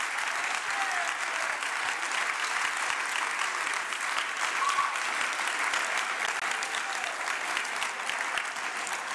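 An audience at a political gathering applauding and cheering after a speech, a dense, steady wash of clapping that continues evenly throughout without letting up.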